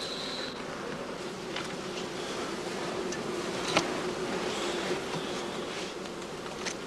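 Honeybees at traditional straw skep hives make a steady, soft buzzing hum that fills the air evenly, with a few individual insects passing close by.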